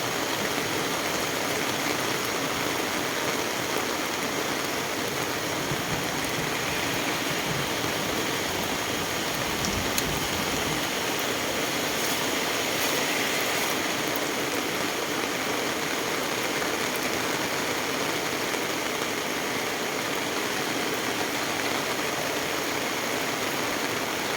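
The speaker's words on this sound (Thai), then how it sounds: "ฝนตกเนาะค่ะ" Heavy rain pours down in a steady, dense roar that holds evenly throughout, with no voices over it.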